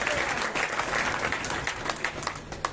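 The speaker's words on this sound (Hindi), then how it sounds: "आप बहुत जोर से ताली बजाइए।" An audience at a Shrimad Bhagwat Katha gathering applauds loudly, with steady dense clapping throughout and scattered sharper claps standing out, and no talking over it.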